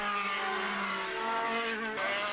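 Formula race cars lap the Mondello circuit in an orderly line behind the safety car, their engines holding a steady, loud drone that swells and shifts in pitch as they pass, with a brief dip near the end.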